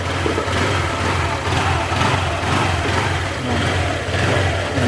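A Honda Click 125 scooter engine, freshly rebuilt after running low on oil and coolant, runs steadily with a continuous mid-pitched drone and fine rattle, close and loud, with no talk.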